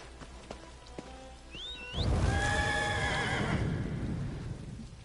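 In an Elder Scrolls game, a horse gives a loud, close whinny after some quiet clicks, followed by a long wash of rain-like noise. No one speaks.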